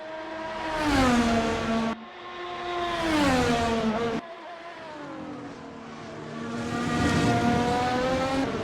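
A race car laps the Sepang circuit in Malaysia, its engine rising and falling in three surging sweeps as it accelerates through gears, loud and close with sharp cuts between passes.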